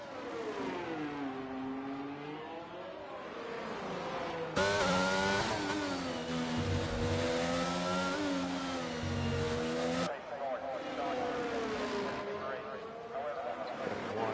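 McLaren Formula 1 car racing on the Azerbaijan street circuit, its engine holding a steady high-pitched whine that rises and falls through gear changes, with a louder nearer stretch in the middle, under continuous commentary.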